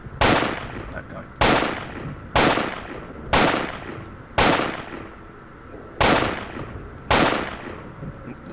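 Gunshots ring out in the video game STALKER: Call of the Zone, seven loud, sharp single shots about a second apart, each trailing off in a short echoing decay, with no voices.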